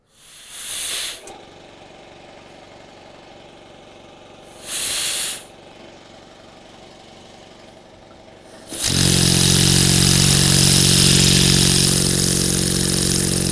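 A Tesla mechanical oscillator fed compressed air at about 25 psi gives two short, close hissing bursts, then starts up into a loud, continuous, buzzing roar with a steady low hum.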